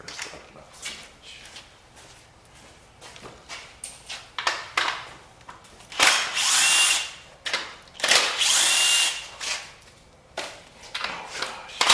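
An impact wrench with chrome sockets works on a 5.3 LS V8 during a full engine teardown, giving loud, close, repeated bursts of rattling hammering with short pauses in between.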